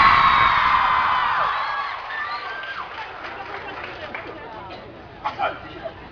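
A book fair crowd on the National Mall shouts and screams together, loud and sustained at first, then fading into scattered chatter and a few short whoops.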